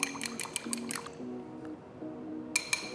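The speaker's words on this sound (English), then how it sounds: "Crack 1 egg into a bowl. Add just a splash of water and mix it together." An egg and a splash of water are whisked together in a bowl, giving quick rhythmic wet clicks and sloshes in bursts, close and moderately loud, with brief pauses between.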